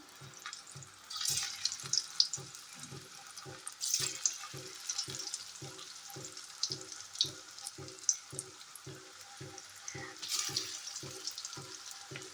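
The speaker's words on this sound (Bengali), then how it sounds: "এবার সেই তেলের মধ্যে খুব ভালো করে লাল লাল করে ভেজে নেবে" Jackfruit seed fritters fry in oil in a pan, with a soft, faint sizzle, scattered crackles and occasional louder hissing swells over a quiet rhythmic thudding.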